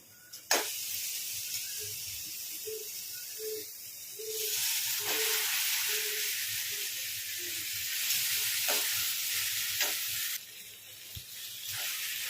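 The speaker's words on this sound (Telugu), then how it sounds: "మొత్తం బాగా కలుపుకోండి, పాస్తాకు మసాలాలు అన్నీ పట్టేటట్టు." Boiled pasta tossed with spices in a hot pan, a steady sizzling hiss broken by scraping stirs of a spoon, close and fairly loud with no talking.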